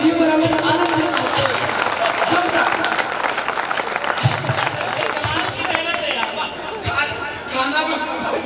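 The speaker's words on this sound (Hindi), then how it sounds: "जोरदार तालियां दीजिए" Strong audience applause at a Hindi comedy poetry show, steady dense clapping mixed with crowd chatter and cheering voices, loud and close throughout.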